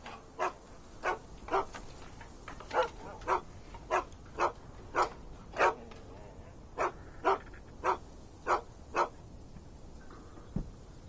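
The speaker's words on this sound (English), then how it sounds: "You can look at my dogs, but don't touch them." Dogs barking in the video game Sherlock Holmes The Awakened: a steady series of about fifteen regular woofs, evenly spaced and moderately distant, with a faint ambient hum underneath.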